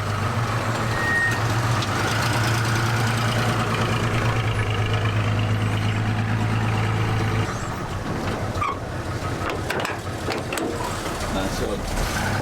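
A 1963 Chevy C20 pickup with a straight-six 4-litre engine idles with a steady low rumble for about seven seconds, then drops to a quieter, busier background while it backs out. Voices can be heard nearby.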